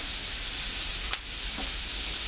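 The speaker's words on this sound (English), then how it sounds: "We're just going to let this simmer a little bit." Oxtail soup simmering in a pot, a steady close sizzling hiss with faint bubbling, alone and unbroken throughout.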